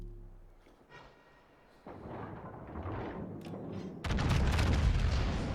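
Heavy naval gun salvo from a warship in World of Warships, booming out in deep rolling blasts that build in strength, the loudest broad report landing near the end.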